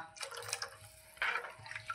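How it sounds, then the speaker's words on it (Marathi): A glass of water is poured into a pan for yogurt kadhi, two short close splashing gushes of liquid with a brief drip between them, alone with no talk. "आता मी 1 ग्लास पाणी टाकून घेतलेलं आहे"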